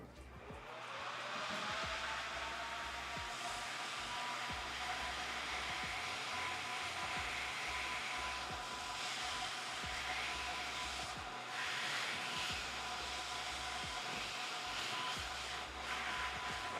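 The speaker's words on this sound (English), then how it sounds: "So now we're just gonna add our heat shrink." A heat gun blows steadily while shrinking heat shrink tubing onto a headphone cable, a constant close airy roar with faint pitch wobble throughout.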